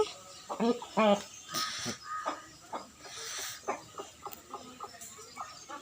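Fighting roosters and hens cluck near by as they are fed at a house yard, scattered short calls and pecking sounds mixed with someone talking.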